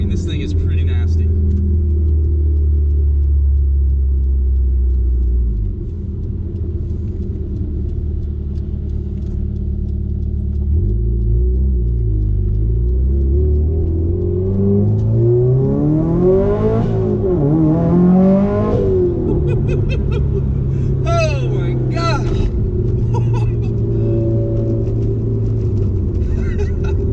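A Subaru STI engine at full throttle on a dyno, loud and close, holding a low drone before climbing through sweeping revs, with gear-change dips and a fall back to a lower rumble.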